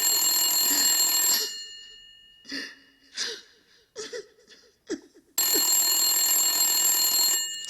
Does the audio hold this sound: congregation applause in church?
no